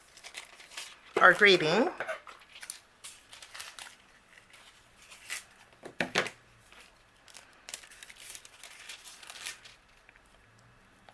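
Sheets of polished brass foil crinkle and rustle as they are handled and cut, with a loud crumpling burst near the start. Sharper snips and softer handling noises follow, and a voice talks briefly over them.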